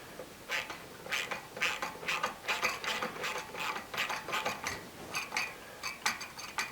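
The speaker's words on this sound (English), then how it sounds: "I'm going to tighten that bolt there down a bit" A ratchet clicks in quick bursts while tightening the governor linkage bolt on a Honda GCV 190 engine. The rapid, close metallic ticking repeats steadily over several strokes, and no one speaks.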